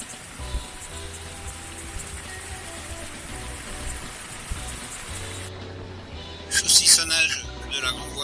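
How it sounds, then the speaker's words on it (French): Steady broadband hiss of heavy rain falling hard and continuous on a sailboat in Martinique ahead of Storm Beryl, with a low hum underneath and a few louder splashes or clatters near the end. "Ça commence à pleuvoir sérieux."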